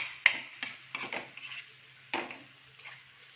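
Masala being sautéed in a pan over medium gas: soft, faint stirring scrapes and taps at uneven intervals over a low, steady background hum.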